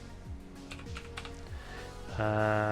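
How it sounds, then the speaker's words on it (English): Computer keyboard typing into a Windows search box while setting up a gaming wheel on a PC, a few soft key taps heard over a steady hum that grows louder toward the end, with no voices. "I go down to the search box and type in controller"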